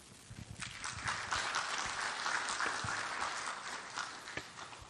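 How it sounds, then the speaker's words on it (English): An audience at a Malaysian political panel discussion breaks into sustained applause, a dense wash of clapping that swells and then fades, with no talk over it. "See, I don't have to ask you to clap anymore."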